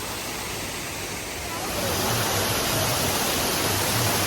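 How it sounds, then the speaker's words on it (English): A waterfall roars right beside a restaurant built into the falls in Kaghan, a dense, steady rushing wash that swells noticeably louder partway through and stays close and enveloping. "We're actually literally just sat in a restaurant in the middle of a waterfall."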